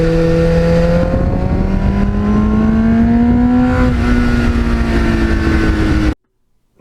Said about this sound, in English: the sound of that muffler, and I've had that many, many years, I've listened to it, I never get sick of hearing it.